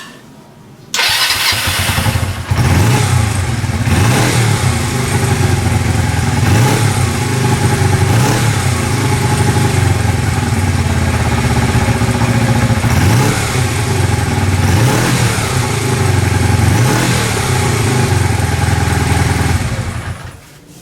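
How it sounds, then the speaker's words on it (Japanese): A Honda CB125T motorcycle fires up with the choke pulled, then keeps running steadily at a loud, close idle for about twenty seconds with a faint rhythmic pulsing and no talk. "とりあえずねチョーク引けばエンジンかかりました。"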